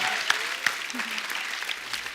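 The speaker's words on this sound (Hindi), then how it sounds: "जोरदार तालियां।" A TV comedy show's studio audience gives loud, continuous applause, with a few sharper claps standing out and faint voices mixed into the clapping.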